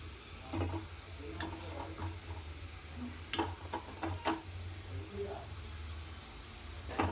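A turmeric tempering for bottle gourd curry sizzles quietly in oil, with a low steady crackle broken by a few sharp stirring clicks against the pan. No one speaks.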